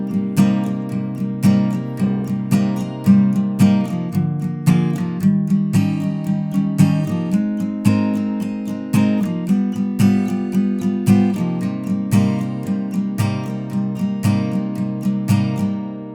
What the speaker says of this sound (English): That's the first line of chords, which will sound like this.